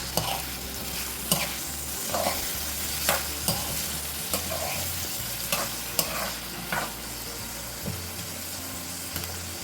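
A pumpkin vegetable dish is stirred in a pan over the heat, with scraping spoon strokes at a steady rhythm over a continuous close sizzle.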